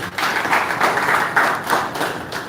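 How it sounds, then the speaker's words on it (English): Applause at a live-streamed environmental assessment meeting, a steady patter of hands clapping close by with no talk over it. "I think we should give them a round of applause."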